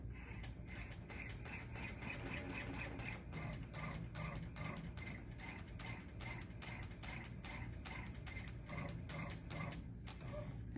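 Baby Lock Array embroidery machine stitching an embossed design, a steady fast needle ticking over a low motor hum, continuous and close throughout, no talk.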